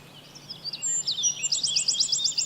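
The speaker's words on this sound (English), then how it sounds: "The wren is the smallest of the local bird population." A wren sings in a forest, a high, rapid trilling run of bright notes that builds into a fast repeated series, clear and fairly close over a soft woodland hush.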